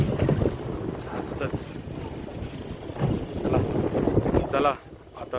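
Strong gusty winter wind on Lohgad fort in Maharashtra buffets the microphone in a continuous rumbling roar, rising and falling, with a brief lull near the end.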